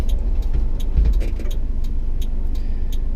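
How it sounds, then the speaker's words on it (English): A 1996 Suzuki Carry four-wheel-drive Japanese mini truck drives along with a steady low engine rumble and road noise, plus occasional light clicks and rattles from inside the cab. "That's our quick little drive around with this 1996 Suzuki Carry."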